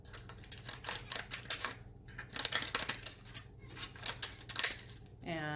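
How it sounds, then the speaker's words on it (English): Scissors cut around a plastic bottle in a run of close, crisp snips and crunching plastic crackles, with brief pauses between bursts and a faint low hum underneath. "I'm going to cut to the end this time so it gets real flat. And I'm just going to go around and cut."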